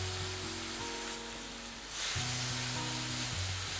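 Chopped tomatoes hitting frying onions in a pan, a steady close sizzle that surges louder as they go in, with a low hum underneath.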